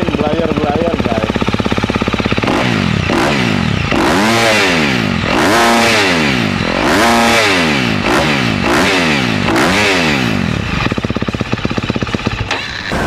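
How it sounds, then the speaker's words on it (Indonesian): A 2023 KTM SX-F 250 motocross bike runs loud and close, its engine revved repeatedly in rising and falling sweeps over a rough idle, with no talk over it. "Ini cuma sekali starter dia langsung nyala motor."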